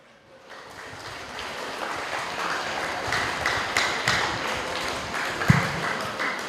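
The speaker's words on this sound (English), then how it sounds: "Round of applause for the final speaker of Malaguna Technical, Elia Turlong" Audience at a 2011 schools debating semi-final clapping for the last speaker, a broad wash of many hands rising after a quiet start and holding steady, with a few sharper claps near the end.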